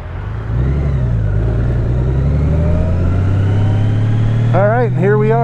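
A motorcycle cruises at a steady 35 mph, its engine humming loud and constant, with heavy wind noise rushing past an open face shield, and someone speaks briefly near the end.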